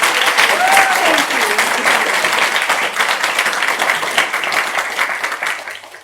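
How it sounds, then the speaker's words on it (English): Audience at a book launch for the novel Cloudwish by Fiona Wood at Readings Hawthorn bursts into steady, dense applause, holding loud for several seconds with a few voices rising over the clapping before it starts to ease. "would you please just join me in the first round of applause for our wonderful Fiona Wood"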